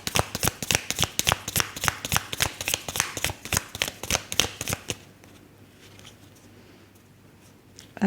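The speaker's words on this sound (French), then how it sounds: "Je vais tirer quelques cartes supplémentaires." Tarot cards are shuffled close by in a quick run of crisp, rhythmic riffling flicks for about five seconds, then stop, leaving near silence.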